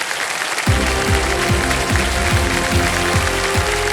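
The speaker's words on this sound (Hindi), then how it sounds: "एक बार फिर जोरदार तालियां अभिषेक जी को।" Studio audience on the quiz show KBC breaks into loud, dense applause that starts suddenly and holds steady, with music playing underneath.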